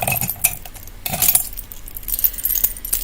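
Small metal charms dangling from a pair of craft scissors jangle and clink together in a few bright, close rattling bursts.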